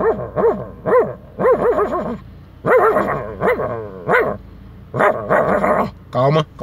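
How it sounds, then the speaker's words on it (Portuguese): An agitated guard dog barks repeatedly in rising, whining bursts, loud and close, in uneven clusters with short pauses between them. "É, o nosso cão de guarda do canal."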